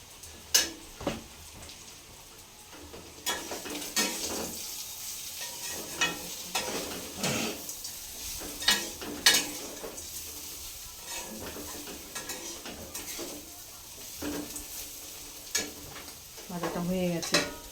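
Potatoes with leafy greens fry in a pan with a low, steady sizzle, broken by repeated scrapes and clinks of a spatula as they are stirred.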